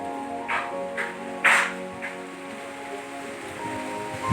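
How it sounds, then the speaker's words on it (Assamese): Wind gusts rush in broad noisy bursts, strongest mid-way, over a steady background hum with no one speaking. "একদম বতাহজাক মাৰিছে।"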